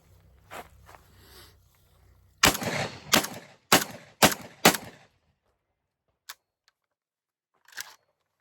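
Four loud, close blasts from a JTS 12 gauge shotgun loaded with Monarch shells come in quick succession, followed by a couple of faint clicks and handling noises in near silence.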